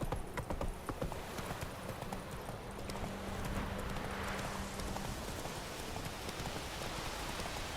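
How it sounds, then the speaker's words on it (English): Horse hooves clip-clopping in The Witcher 3, a steady close trot of hoof beats blended with a rain-like wash of game ambience, with no talk over it. "Whoa there, Roach"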